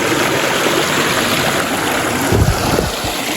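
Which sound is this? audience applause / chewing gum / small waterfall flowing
small waterfall flowing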